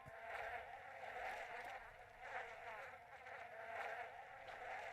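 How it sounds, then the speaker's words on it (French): Mosquitoes whine in a continuous, wavering buzz that pulses gently in loudness throughout, a thin insect drone from the Zelda Breath of the Wild video game heard alone without talk. "Sur ce problème de moustique."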